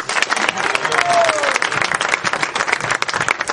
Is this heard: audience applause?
yes